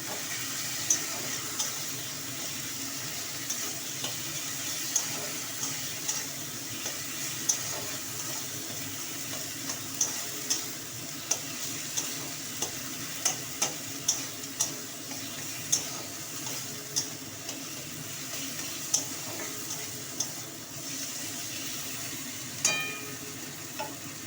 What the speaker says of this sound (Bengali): এবার আমি লবণ দিচ্ছি দিয়ে মশলাটা এবার আমি কষিয়ে নেবো